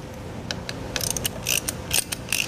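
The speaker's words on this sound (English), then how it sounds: "you'll remove this Allen bolt" Allen key clicking and ratcheting as a bolt is loosened on a side cover of a Harley-Davidson V-Rod motorcycle, a series of short, close metallic ticks and scrapes at an uneven rhythm with no talking.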